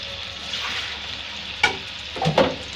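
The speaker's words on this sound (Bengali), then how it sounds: "সিম্পল একটি ভাজি আমি এখন রান্না করব।" A simple vegetable bhaji of bitter gourd and a small potato fries in a pan, a steady sizzle broken by a couple of clattering spatula scrapes near the end.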